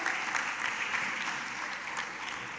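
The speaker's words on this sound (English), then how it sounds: "maybe we can applaud a little bit more our fintech startup to congratulate them" A summit audience in Dakar gives a fintech startup sustained, dense applause with fast, even clapping and no clear voice on top.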